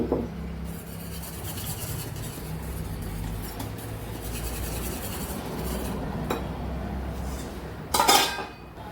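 Food for a cabbage kottu being stirred in a cooking pot, a continuous close scraping and rubbing with light metallic clinks, ending in a louder clatter of the utensil against the pot, no talking.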